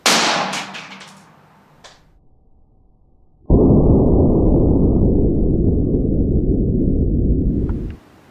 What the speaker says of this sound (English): load up the Ruger 10/22 rifle, and tag this from the same distance at 10 feet